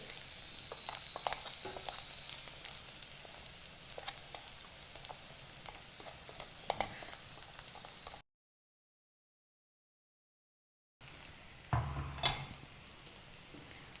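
Okra curry fries in a pan while curry powder is stirred in, giving a steady crackling sizzle with scraping stir strokes, a brief break, then louder clatter near the end.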